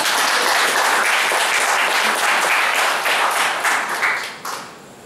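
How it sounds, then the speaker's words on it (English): Loud, dense applause from a training-seminar audience in a room, continuous clapping that holds strong and then tapers off toward the end. "You deserve a huge round of applause."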